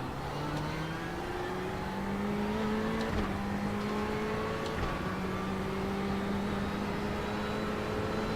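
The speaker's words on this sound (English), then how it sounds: "Oh boy, now I'm just locking up the tires." A race car in the iRacing simulator at Mosport runs at high engine revs with a steady whine, its tires locking up under braking with a brief scrubbing screech, loud and alone.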